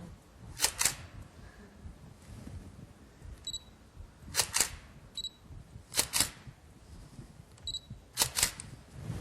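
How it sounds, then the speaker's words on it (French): Camera shutter firing during zoom-burst photography, four close, crisp double clicks spaced a couple of seconds apart over quiet background noise. "je vais prendre la photo et finalement, au moment de déclencher, je vais zoomer avec le zoom, avec l'objectif de l'appareil"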